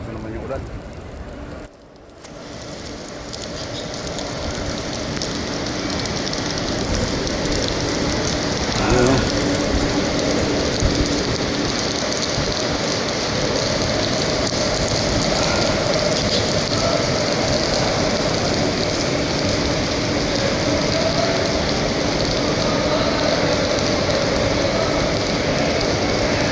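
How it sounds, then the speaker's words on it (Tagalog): Heavy rain pours down in a steady, dense hiss that barely changes, filling the space for the whole stretch after a brief quieter dip near the start. "malakas na naman yung ulan"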